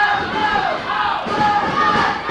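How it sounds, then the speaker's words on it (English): A wrestling crowd in the Ohio Valley screaming and cheering loudly and continuously, with swelling waves of chanting voices and a commentator talking over the noise. "Here the crowd screaming"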